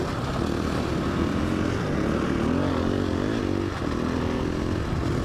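A KTM 500 EXC-F street-legal dirt bike engine runs steadily, a loud, close, continuous buzzing drone that rises and falls slightly in pitch as the throttle changes.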